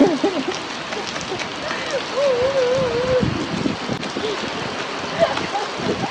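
Rain falls steadily outdoors in a continuous hiss, with wind buffeting the microphone, while someone talks and whistles over it.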